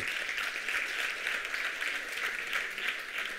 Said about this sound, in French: non sans avoir applaudi l'ensemble des participantes